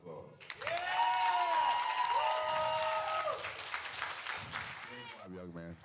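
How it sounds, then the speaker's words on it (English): Audience applause and cheering for a teen bodybuilding competitor at a natural physique competition, a loud sustained crowd roar mixed with talk over a PA, fading near the end as a voice speaks again. "Let's give him a round of applause."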